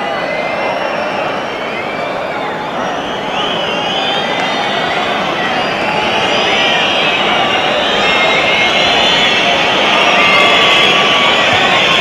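A football crowd at Highbury roars and whistles continuously near the end of an Arsenal v Chelsea Premier League match, urging the referee to blow for full time; a loud, dense wall of noise that swells slightly toward the end.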